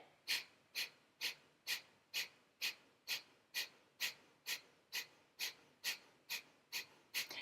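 Breath of fire in a beginner Kundalini yoga session: rapid, evenly spaced forceful exhales through the nose, about two per second, sharp and close with quiet gaps between them.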